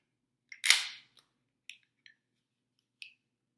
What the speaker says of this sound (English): Let's start by breaking down the firearm.